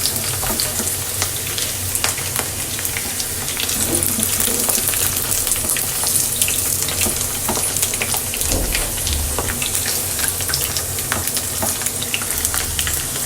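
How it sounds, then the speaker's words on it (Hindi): Potato pieces frying lightly in a pan for yakhni pulao make a continuous, even, rain-like sizzle of oil, close and unbroken, with faint stirring scrapes now and then and no voices. "तो आलू को इस तरह से हल्के हल्के से फ्राई करने के बाद मैं निकाल लूँगी"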